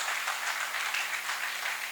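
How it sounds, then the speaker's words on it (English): An audience at an oil and gas industry awards ceremony applauds with dense, steady clapping that fills the whole moment at an even, moderate level. "A round of applause."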